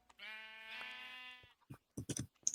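A sheep in a video game gives one drawn-out bleat of about a second, clear and close, followed by a few short clicky sounds.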